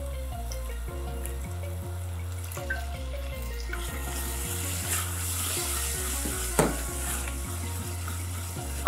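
Water pours into a hot, sizzling BBQ rib sauce of tamarind, tomato paste, soy sauce and five spice. A steady splashing pour runs over continuous frying and bubbling noise, with a deep, regular low hum underneath.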